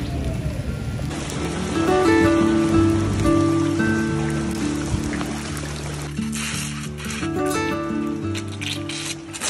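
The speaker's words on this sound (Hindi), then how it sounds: "इतनी तेज बारिश है और ओले पड़ रहे हैं" Heavy rain with hail on a farm: a dense, continuous downpour that roars steadily throughout, loud and close, with a droning tonal hum running beneath it.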